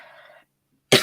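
A single sharp cough bursts out close to the microphone after a moment of near silence, following a brief stretch of soft sound.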